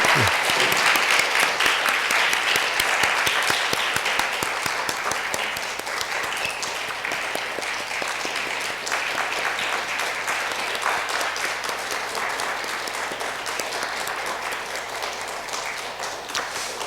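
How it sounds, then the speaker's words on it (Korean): A church audience claps loudly and steadily for middle and high school students entering after a history study trip. The applause is sustained and dense for over fifteen seconds, easing slightly partway through, with no voices over it. "우리 이제 학생들 들어갈 때 큰 박수로 한번 격려해 주시면 감사하겠습니다"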